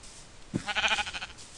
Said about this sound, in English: I will murder the sheep.